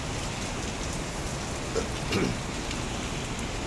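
Heavy rain pours down in a steady, dense hiss with no voices, broken only by a couple of faint dull knocks near the middle.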